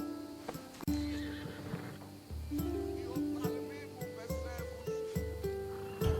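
A horse whinnies and its hooves clip-clop in Assassin's Creed Odyssey, the game sounds steady and close over layered musical tones, with one sharp accent near the start.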